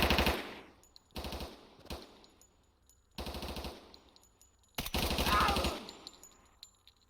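Bursts of sustained machine-gun suppressive fire in the tactical shooter Door Kickers 2, four or five loud rapid-fire volleys separated by short pauses, with no talking.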